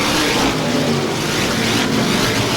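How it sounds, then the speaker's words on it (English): Stock cars roar together off the green flag at a 1988 ISMA 200-lap race, a dense, steady wall of engine noise with no gaps, loud and continuous throughout. "Green flag racing."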